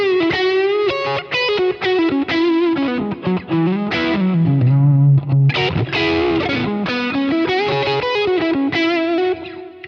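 Electric guitar through an ODR-1X overdrive pedal, a loud, close, driven tone played as a steady melodic line of sustained notes and short picked runs, without any voices.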